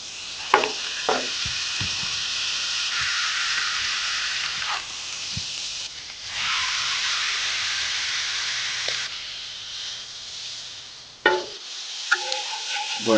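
Smash burger patties fry loudly on a hot griddle in a steady, broad sizzle, with scattered scrapes and taps from a spatula and brief dips and pops where the meat is pressed or moved.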